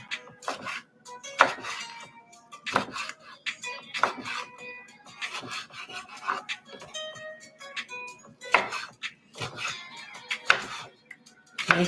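A knife chops fresh vegetables and garlic on a board for pico de gallo. Sharp, irregular chops come in bursts, close and fairly loud, with some talk mixed in.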